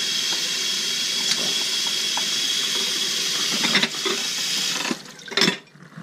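Running water rinses dirt from freshly foraged wild greens and leek for a spring salad, a steady close hiss with brief splashes and a break near the end as the flow shifts.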